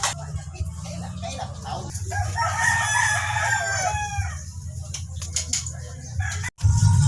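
A rooster crows loudly nearby in a long drawn-out call, with hens clucking and background chatter from people around a festive outdoor gathering.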